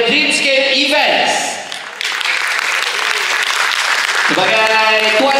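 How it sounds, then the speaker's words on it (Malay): Audience applause at a reunion show combining comedy, music and sketches, a loud wash of clapping rising in the middle, with a voice or music heard over it at the start and end. "Jadi tuan-tuan dan puan-puan, berikan tepukan kepada Dreamscape Events"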